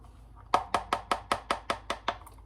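Egg yolks are mixed in a bowl for a Paris-Brest, with about nine crisp, evenly spaced taps of the utensil against the bowl following a brief quiet start.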